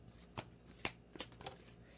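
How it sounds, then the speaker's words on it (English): Tarot cards shuffled during a card reading, a few distinct riffling bursts spaced apart, close and fairly quiet. "so I'll do one more shuffle"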